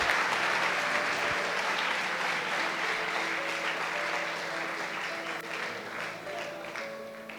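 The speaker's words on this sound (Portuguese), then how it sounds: "dá um aplauso aí para Jesus" Congregation applause at a church service, a continuous patter of many hands clapping at moderate volume, steady throughout with faint tonal music underneath.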